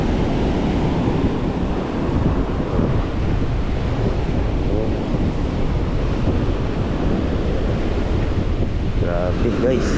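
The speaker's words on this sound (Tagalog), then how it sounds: "Pakatindi ng alon." Powerful ocean surf crashes onto the shore during a storm, a loud continuous roar of breaking waves with heavy wind buffeting the microphone throughout.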